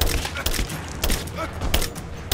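Gunfire in Rise of the Tomb Raider on PC, with several sharp shots in quick succession during a headshot kill. They crack close and loud over a busy game soundscape.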